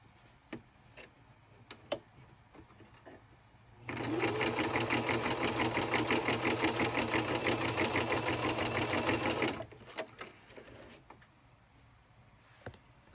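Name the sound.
sewing machine stitching across a junk journal page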